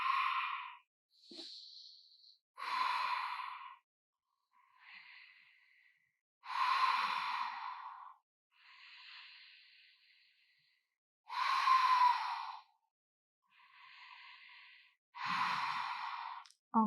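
Long, deep breaths during a hatha yoga strengthening session: about ten slow inhales and exhales alternate with even pauses, close and clear, with no talking.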